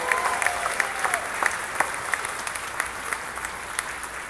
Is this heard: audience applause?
yes